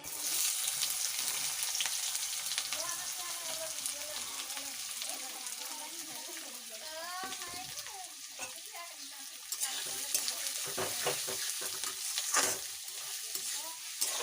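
Sliced onions and bay leaves frying in hot oil for a mutton curry crackle and sizzle steadily while a spoon stirs and scrapes, with a voice talking faintly partway through.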